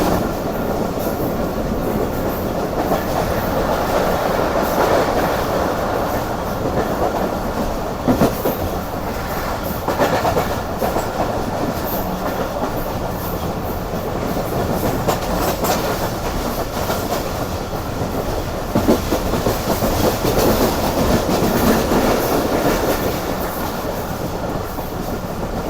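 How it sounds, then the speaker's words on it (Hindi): The Karakoram Express runs at high speed, with a continuous loud roar of wheels on rail and rhythmic clickety-clack from inside the carriage, and no voices. "काफ़ी अच्छी स्पीड में ट्रेन ने स्किप किया सहारनपुर को।"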